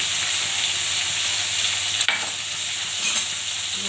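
Spices, salt, turmeric and cumin being stirred in a frying pan, with a steady low sizzle throughout and a single sharp scrape of the spoon partway through.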